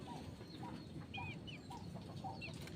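Chickens cluck softly and intermittently inside a netted enclosure with net edges staked into the ground, short calls repeating over a low, steady background.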